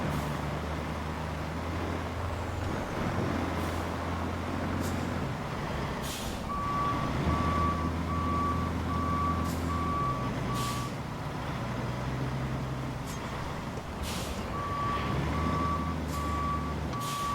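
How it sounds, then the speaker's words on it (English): A cargo truck backs up with its reversing alarm beeping in regular bursts over a heavy, rumbling engine idle, with occasional sharp air-brake hisses and clanks; fairly close and loud, no one speaking. "Cargo truck seems simple enough."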